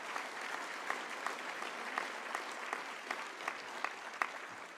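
Applause from an audience at an honors ceremony, a moderate, fairly distant crowd clapping with a few sharper individual claps standing out, continuing steadily on its own.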